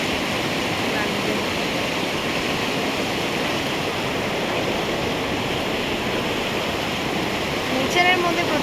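Glacier meltwater stream in Kashmir, a steady broadband rush of flowing water that stays loud and constant throughout, close by, with a brief faint higher sound near the end.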